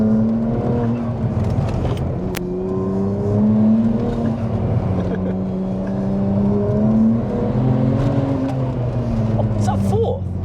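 BMW 135i with a tuned 500 bhp N54 twin-turbo engine pulling hard through third and fourth gear, steady rising engine drone with gear-change dips, heard from inside the cabin while people talk over it.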